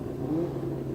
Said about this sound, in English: The scream of a pro-charged engine is unmistakable, but we're not used to hearing it on the front of a six-cylinder.